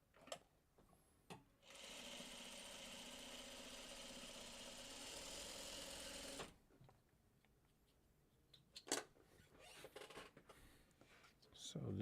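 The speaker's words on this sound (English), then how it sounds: "So let's get this all sewn together." A sewing machine runs steadily for about five seconds, joining rows of a quilt together, its whirring motor close and even; quiet handling noises and soft clicks come before and after.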